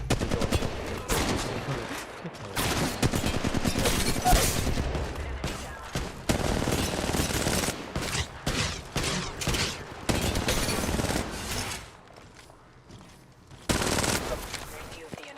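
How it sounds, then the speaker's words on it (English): Enemy gunfire in the mobile battle royale game Apex Legends Mobile, dense rapid automatic bursts and shots that are loud and nearly continuous, briefly easing near the end, with someone talking over the shooting. "Enemies are shooting at me."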